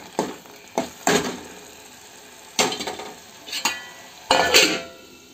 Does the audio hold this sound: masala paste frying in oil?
yes